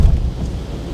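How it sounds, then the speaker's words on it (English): Heavy rain roars outdoors as a dense, loud rumble, with low booming that sounds like thunder or wind buffeting the microphone. No one speaks. "It's raining like hell."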